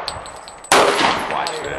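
A single loud gunshot bursts out at an outdoor shooting range, sharp and close, ringing and decaying over the following second.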